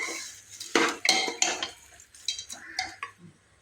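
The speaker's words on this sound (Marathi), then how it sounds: "हे व्यवस्थित हलवून घ्यायचं म्हणजे खाली कुकरला चिटकलं नाही पाहिजे" A metal spoon scrapes and clanks against a pressure cooker in uneven strokes while mutton cooks, close by, with no talking.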